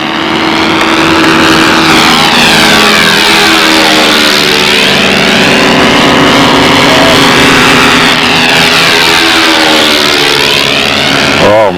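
A control-line scale stunt model airplane engine runs loud and steady for the whole stretch with a muffled, four-stroke-like drone. Its pitch rises and falls as the plane circles past.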